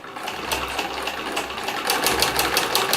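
A sewing machine runs steadily, stitching a press stitch on dress trousers, its needle tapping in a fast, even rhythm over a low motor hum, close and fairly loud with no voices.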